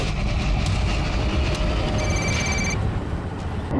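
A telephone rings on a call in a short electronic burst partway through, sounding over a loud, constant rumbling background like a moving train.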